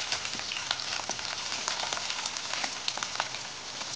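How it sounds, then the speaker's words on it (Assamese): Chopped onions fry in hot oil in a pan, giving a soft, steady crackle and sizzle with scattered small pops throughout. "পিঁয়াজখিনি অলপ ভাজি ল'ব লাগে।"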